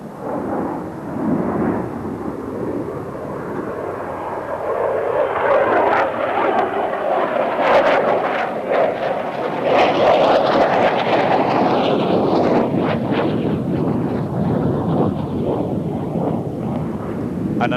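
Swedish Air Force jet fighter from F4 Wing at Östersund, flown by Major Jan Freud at the International Air Tattoo, RAF Fairford, 1993, passes overhead in a loud rising and fading roar that swells to a sustained rumble.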